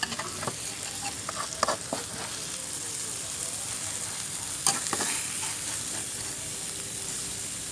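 Okinawan bitter melon and egg stir-frying in a pan, a steady sizzle with a few sharp clicks and scrapes of the utensil against the pan, heard close and without talk.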